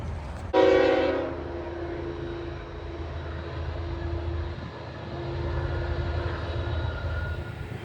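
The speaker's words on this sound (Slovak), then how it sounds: "jeden a ten istý vlak. Asi 3 rušne tam boli." A long train hauled by about three locomotives passes nearby, opening with a loud sustained horn blast, then a steady heavy rumble and rolling drone that keeps going without any talk.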